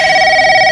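A telephone at home rings with a steady, loud, continuous electronic tone and no talk.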